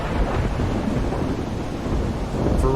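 Heavy storm rain hisses without a break in Project Zomboid, a loud, even roar of downpour with low thunder-like rumble beneath it and no talking.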